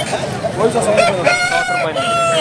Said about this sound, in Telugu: సారథి అన్నగారికి సంబంధించినటువంటి కోళ్ళు అయితే తీసుకొచ్చినారు.